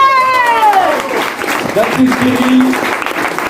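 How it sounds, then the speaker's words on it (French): An audience at a dinner show claps loudly and steadily while an announcer speaks over the clapping through a microphone. "on peut applaudir bien fort"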